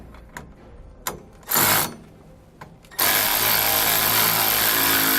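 A ratchet with a 15mm socket tightens hardware on SumoSprings Rebel helper springs, with short clicking bursts followed by a long, loud, continuous whirring run close by.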